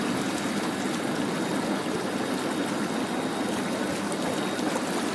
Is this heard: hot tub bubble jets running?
yes